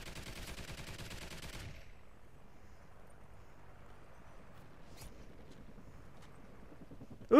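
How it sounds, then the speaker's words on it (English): Sniper rifle fire in a Call of Duty Ghosts free-for-all match on the Freight map: a dense, loud burst of gunfire at the start, then quieter game ambience with a couple of short sharp cracks. "So I'm gonna try to snipe someone here."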